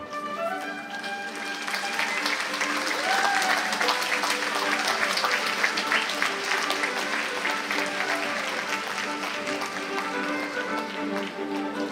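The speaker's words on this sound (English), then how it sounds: "Please join us in clapping loudly for our proud graduates of today." A large audience at a K2 kindergarten graduation claps loudly and steadily for the graduating children, a dense, sustained roar of hands with crowd noise and some music beneath it.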